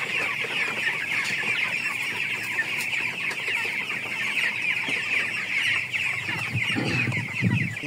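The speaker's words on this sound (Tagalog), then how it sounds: "gutom na po yung mga manok." A crowd of hungry chickens clucks and chatters continuously in a coop, a dense, steady flock sound at close range with a few louder calls toward the end.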